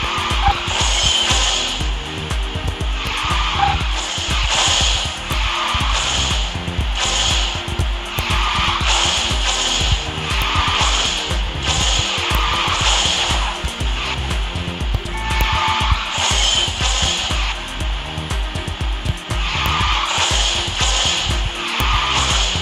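Tires squealing as a car slides through drifts in the racing game Garena Speed Drifters, with engine roar under a steady, loud layer of game music and effects throughout.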